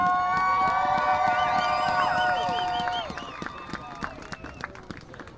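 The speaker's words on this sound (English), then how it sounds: "the entire band deserve a huge round of applause for their efforts tonight" Football crowd at Prairie Grove vs. Gentry cheering for the marching band, with rising whoops and whistles over scattered clapping, loud at first, then thinning into sparser cheers.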